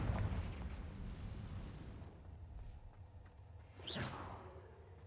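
Hogwarts Legacy Confringo spell blast: a rushing, rumbling game explosion at the start fading into a low background bed, then a sharp swooshing magical burst near the end, fairly loud with no talk.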